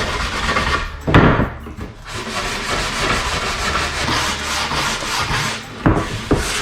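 Coarse sandpaper rubs back and forth over interior wooden window trim in steady, close scratchy strokes, with a few sharper scrapes standing out along the way.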